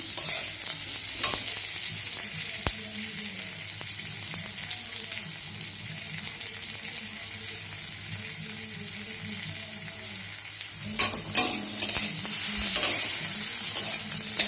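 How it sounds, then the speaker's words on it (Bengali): Onion and tomato frying in a pan as the base for masoor dal, a continuous close sizzle broken by repeated stirring scrapes and clatter, with no voices. "পেঁয়াজ আর টমেটো ভাজছি।"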